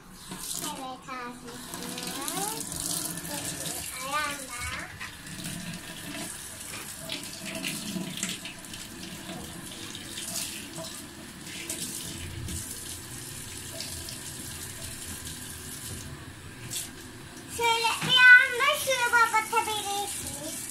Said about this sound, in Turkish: Yıkayalım ellerimizi.